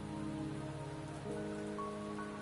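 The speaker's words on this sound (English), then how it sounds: "Don't worry, the rain won't last much longer." Steady rain falls in the video game Wuthering Waves, a dense even patter on surfaces running throughout, with soft sustained tonal notes from the game's soundtrack layered underneath.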